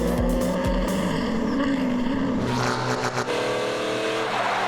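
GTLM sports race cars roar past at speed, engines revving hard with a rising pass-by and another car swelling in near the end, loud and alone.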